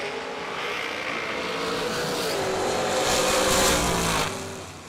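A Camaro drag racing car makes a run at a dragway, its engine a loud, steady roar that builds and passes over about four seconds before trailing off, with crowd and track noise beneath.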